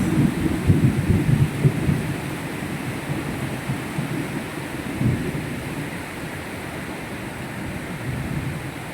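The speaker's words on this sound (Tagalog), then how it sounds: "Nakakatakot pag ganitong nagla-lightning." Heavy sudden rain pours steadily during a hot-weather thunderstorm, with low rumbling thunder loudest at the start and swelling again midway, filling the whole scene with dense broadband noise and no talk.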